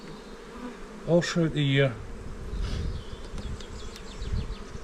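Honeybees buzz faintly inside a hive beneath a clear crown board, a low steady hum with scattered wing flicks, briefly overlapped by a voice before the buzzing continues on its own.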